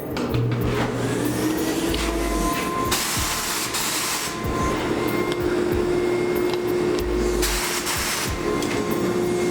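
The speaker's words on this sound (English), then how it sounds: "So I'm going to turn on the sprayer and the fan." An electric paint sprayer and a fan run together during the painting of a small piece of furniture. They make a loud, steady hum and hiss with a constant tone throughout and no talking.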